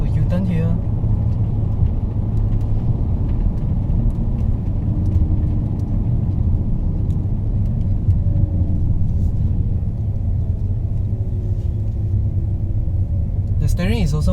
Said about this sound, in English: let's have a U-turn here